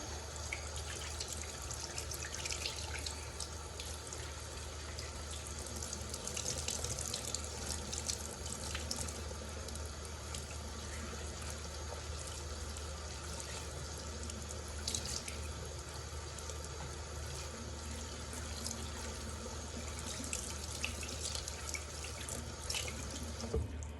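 Salad vegetables are washed under a running kitchen tap, a continuous faint stream of water splashing into a sink with small drips and trickles, steady throughout with no talk.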